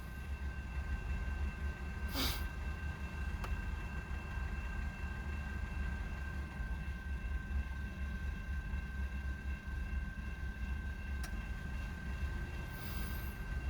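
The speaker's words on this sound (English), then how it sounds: "these are typically the trains that rocket through this crossing at track speed" An intermodal freight train rumbles past a railroad crossing, a steady low roar lasting throughout with faint higher metallic tones and a couple of brief squeals, moderately distant.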